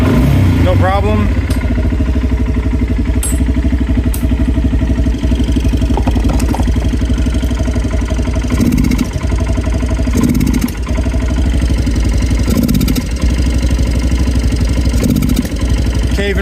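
Kawasaki Brute Force 300 ATV engine that won't rev properly: a loud, steady idle with a rough mechanical chug and faint rises that never climb, close and continuous, with a person talking over it.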